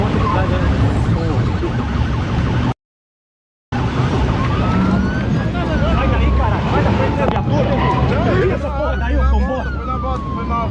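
Police car siren wailing during a chase after a motorcyclist in Brazil, rising and falling sweeps over traffic and engine noise, with people talking, briefly cut out by a short silent gap.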